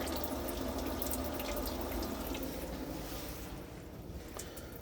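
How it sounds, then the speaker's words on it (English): Water draining out of a Trekker camper's water system during winter preparation, a steady rushing splash and trickle that runs continuously and eases slightly toward the end, close and without talk. "Just drain the system dry."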